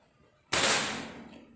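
A Jawara CNC air rifle fires a single Hercules pellet on a 25-meter range. One sudden crack is heard against quiet, followed by a short fading tail.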